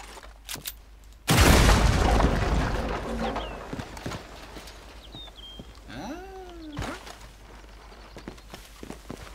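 A loud gunshot in Red Dead Redemption II cracks out at the start of a quiet game scene, followed by a long rolling boom that fades, with faint footsteps and a later whooshing sweep in the background.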